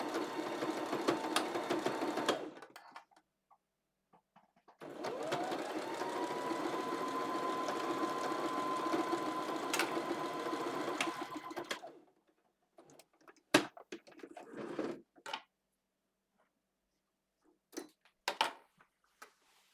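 A sewing machine stitches a strap on an off-shoulder tie-top in two steady runs, the longer lasting about seven seconds, followed by short clicks and handling noises.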